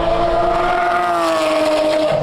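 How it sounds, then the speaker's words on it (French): A Porsche 992 GT3 fitted with the Dundon exhaust in its Loud version roars steadily and close, a dense, sustained high-revving howl with no speech over it. "La déclinaison la plus sonore, c'est la version Loud, celle qui équipait Elmer et qui l'équipe toujours d'ailleurs."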